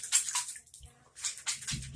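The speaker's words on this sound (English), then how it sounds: "Now I'm going to use this with the water in it and pour that" Water is poured from a cup over hair during a hair-care routine, a brief close splashing and trickling, with soft gurgles and a short pause in the middle.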